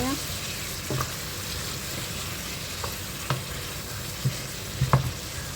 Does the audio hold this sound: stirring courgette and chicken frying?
yes